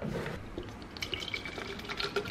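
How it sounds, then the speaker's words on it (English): Water splashes and swirls in a container as it is mixed with a scoop of AG1 greens powder, a close, continuous liquid sloshing with small drips and clinks. "putting one scoop in here, mixing up some water"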